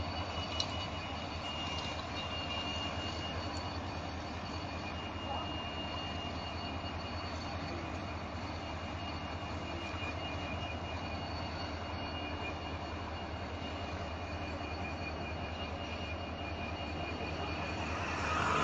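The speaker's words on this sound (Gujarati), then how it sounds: "સામે આવેલી ટ્રેન એ બનારસ તરફથી આવેલી અને વેરાવળ તરફ જતી ટ્રેન" Banaras–Veraval Superfast Express train at Jetpur station, a steady loud rumble of passing coaches and engine that holds evenly throughout without a break.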